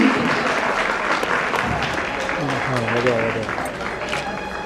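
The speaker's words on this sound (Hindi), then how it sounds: "आप लोग तालियों में कंजूसी ना करें प्लीज" Sustained applause from an audience at an NCC Day celebration in 2012, steady and dense throughout, with voices and a melodic tone rising beneath the clapping.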